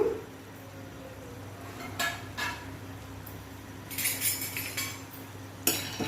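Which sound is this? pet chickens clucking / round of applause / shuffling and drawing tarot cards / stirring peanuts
stirring peanuts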